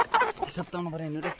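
Roosters kept for a Magar Pitri Puja ritual cluck in short bursts, with a drawn-out harmonic call near the end, while a voice talks over them outdoors.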